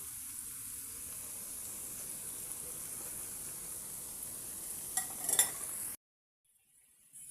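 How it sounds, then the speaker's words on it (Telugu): Spinach pakoda deep-frying in hot oil, a steady dense sizzle and bubbling for about six seconds with a few utensil clinks near the end, then abrupt near-silence. "ఈ విధంగా ఆ పక్కకి ఈ పక్కకి తిప్పుకుంటూ 2 పక్కల మంచి కలర్ వచ్చేంత వరకు బాగా పకోడా అనేది వేయించుకోండి"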